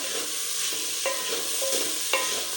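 Guar (cluster) beans fry in oil with a dense, steady hiss, while a spoon scrapes the pan at a few points. No one speaks.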